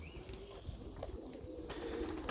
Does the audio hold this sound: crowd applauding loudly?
no